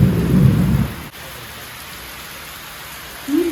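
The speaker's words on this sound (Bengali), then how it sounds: "এই যে দেখো বৃষ্টি শুরু হয়ে গেছে" Rain begins with a deep rumble of thunder and a dense rush of rainfall for about a second, then drops to a quiet hiss before a faint low swell returns at the end.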